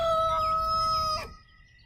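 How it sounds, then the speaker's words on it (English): A rooster crows once, close and loud, a single drawn-out tonal call that breaks off abruptly, leaving faint low background noise. "he's a fun rooster to have around"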